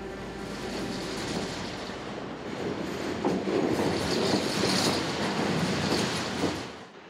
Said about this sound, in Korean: 기차 소리에 정신을 차렸다